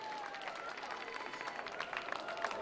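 Crowd applause and cheering at the IFSC climbing World Cup speed finals in Villars, a steady wash of clapping from a large audience, fairly distant, with a faint voice underneath.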